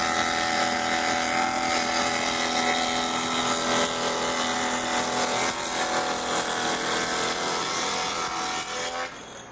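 A loud, steady power saw grinds a dado cut through wood without a break, the whine holding constant until it drops off at the very end.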